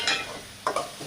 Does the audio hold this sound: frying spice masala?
yes